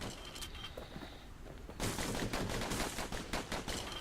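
Dual slinger pistols in the video game Bastion fire in rapid, repeated bursts, a dense rattle of shots that grows louder and busier partway through, with no talk over it.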